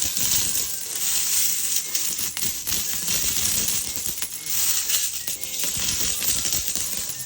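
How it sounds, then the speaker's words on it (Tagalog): A large pile of saved coins poured out in one long, loud, continuous jingling cascade of metal clinking against metal, dense and close with no talk. "Grabe, ang daming barya nito mga ate ko."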